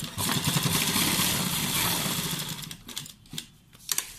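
A sewing machine runs steadily while stitching along the very edge of a shirt collar, making a loud, fast mechanical whir that slows and breaks off into a few scattered clicks near the end.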